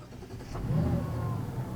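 A 2026 Mazda CX-90 Preferred's engine catches and settles into a low, steady idle, fairly close and moderately loud with no talking.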